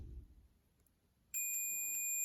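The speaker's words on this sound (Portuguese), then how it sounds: "vamos medir se vai bipar agora o contato com o relé ligado" A multimeter sounds a steady continuous beep while testing the contact of an energized auxiliary relay; the tone starts abruptly after a quiet pause and holds nearby.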